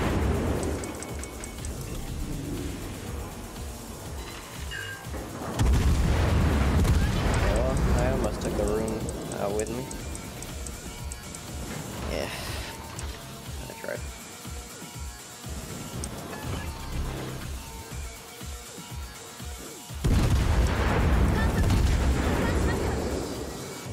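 Heavy naval guns boom in World of Warships as a ship takes fire from everywhere, with two big loud salvos and scattered rumbling blasts under someone talking through much of it.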